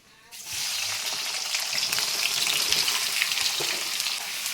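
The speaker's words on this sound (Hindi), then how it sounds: "तेल गर्म हो गया, प्याज डालती हूँ" Onion pieces frying in hot oil with carom seeds, a loud steady sizzle that bursts in and holds close and constant throughout.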